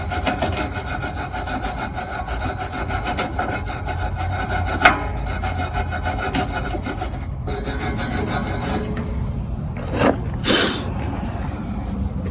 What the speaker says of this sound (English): get a wire brush and clean that all out right there, get all that grime away from the pivot point